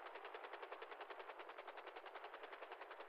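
Rapid automatic gunfire in the survival game Rust, a steady stream of evenly spaced shots rattling on for several seconds at moderate distance, with no talk over it.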